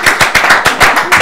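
A studio audience at a university chess championship broadcast claps loudly and close by, with sharp, irregular hand claps in quick succession over a short burst.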